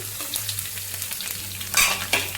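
Mustard seeds and garlic cloves crackling in hot oil for tempering, a steady close sizzle with a couple of sharper bursts of popping and stirring near the end.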